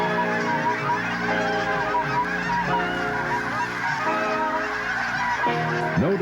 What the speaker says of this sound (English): he could always remember where he was and what he was doing when he heard geese calling